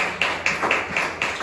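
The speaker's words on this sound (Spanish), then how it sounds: "denle ese aplauso al Señor." A church congregation claps in praise to the Lord, a steady rhythm of about five or six sharp, evenly spaced claps in unison at moderate loudness, with no talking.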